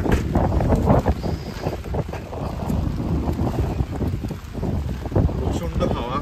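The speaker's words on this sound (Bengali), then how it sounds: "আর আজকে প্রচণ্ড হাওয়া, তার সাথে বৃষ্টি" Strong gusty wind on a stormy rainy day buffets the microphone with heavy rumbling noise throughout, with rain and street sounds beneath and voices speaking at moments.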